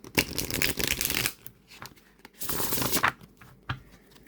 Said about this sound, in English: And a very easy shuffle.